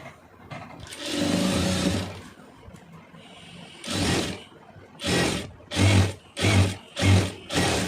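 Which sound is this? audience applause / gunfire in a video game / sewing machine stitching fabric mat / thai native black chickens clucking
sewing machine stitching fabric mat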